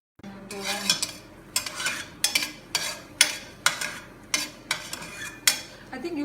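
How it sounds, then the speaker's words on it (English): Vegetables sauteing in a pan while a spatula stirs them, a series of regular scraping and rustling strokes with a faint sizzle underneath. "So we have to wait until the sauteing is done."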